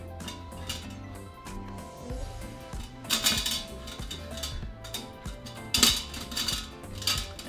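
Corn cobs set onto a metal steamer rack inside an Instant Pot, giving several clanks and clatters of metal against metal, with louder knocks near the middle and toward the end, without talking.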